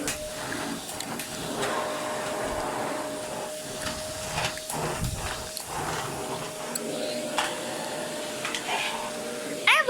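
A vacuum cleaner drones steadily throughout, its motor whine constant with shifting hiss as it moves, fairly close, with no speech over it.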